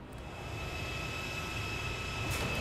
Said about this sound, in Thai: ไปเลยเครื่องบินออกรบออกตัวแหวแหวแหวฟี